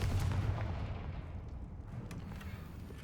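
Confringo fire spell blasts in Hogwarts Legacy go off as booming, explosive impacts, with a heavy thump at the start followed by several fainter bursts and crackles in a game battle.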